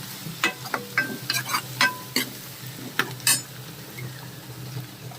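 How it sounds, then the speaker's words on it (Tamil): Crushed garlic sautéing in a pan for a South Indian fish curry, with a soft steady sizzle under a series of sharp scraping and clinking spatula strokes against the metal, close and fairly loud, no talking. "அந்த பூண்டை வதக்கிறேன்"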